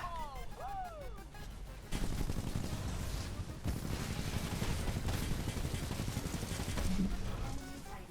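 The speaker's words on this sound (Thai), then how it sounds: "ระเบิดมาซะ" Heavy explosions and bursts of gunfire from a Titanfall 2 battle rumble loudly and without pause, preceded by a few seconds of quieter swooping game effects before the dense combat noise kicks in.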